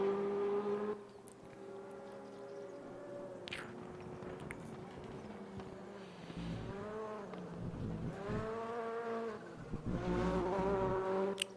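A touring race car lapping Zolder, its engine note climbing and dropping as the driver goes on and off the throttle, heard at a moderate distance with a steady background hum.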